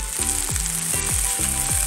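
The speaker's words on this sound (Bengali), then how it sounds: "সোয়া যেটা ম্যারিনেট করে দিলাম, অনেকটা সোয়া তো দুটো ভাগে ভাগ করে একটা ভাগ এখন একটু হালকা সটে করে নেব" Marinated soya chunks sautéing in very little oil make a continuous close sizzle, with four evenly spaced descending scraping sweeps as they are stirred and tossed in the pan.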